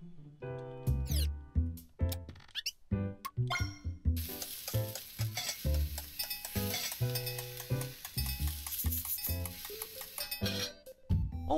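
Video game cooking over a simple fire in Phoenotopia Awakening: a chiptune-style jingle of bouncy tones gives way to a bright, crackling sizzle of food, with clipped musical notes over it.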